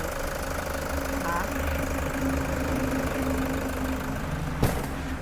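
A 2014 Toyota Commuter van's 3.0 diesel engine idles with a steady, close rattling clatter, while someone talks over it and a brief sharp knock sounds near the end.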